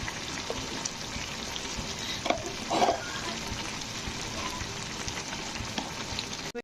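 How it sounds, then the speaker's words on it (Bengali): Shredded cabbage with coriander leaves and ghee is cooked in a pan, making a soft, steady sizzle with one brief clatter of stirring partway through and no voices. "ধনেপাতা ঘি দেওয়ার পরে বাঁধাকপিটাকে আমি একটু নাড়াচাড়া করে দিয়েছি"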